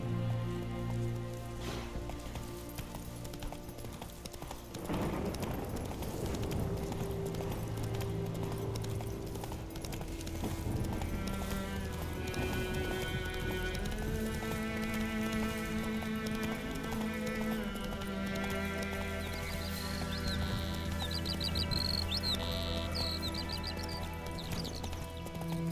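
Horse hooves clip-clopping at a gallop in The Witcher 3, a steady rhythmic patter running under loud, continuous game music and ambience, never clearly standing alone.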